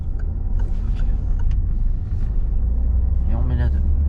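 Car engine rumbling low and steady as the learner accelerates during a driving lesson, with an instructor talking over it.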